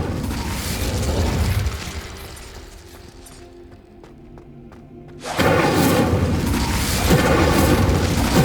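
A casting of the Incendio fire spell in Hogwarts Legacy: a loud rumbling whoosh that fades into a quieter stretch, then a second heavy burst of roaring fire near the end.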